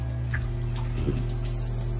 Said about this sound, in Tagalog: May tubig yan. Mag-shower ka.